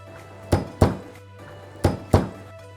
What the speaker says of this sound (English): We'll smash some garlic.